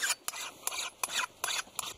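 A forester's marking hammer sharpened with a metal file, the rasping strokes coming in a steady rhythm of about five or six bright, gritty passes, close and clear with no voices.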